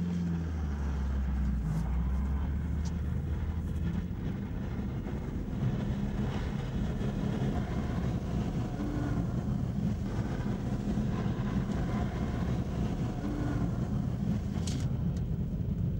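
A car circles laps on a frozen ice-driving track in Lapland, its engine a steady droning rumble that holds from start to finish, heard from inside or close by, with no speech.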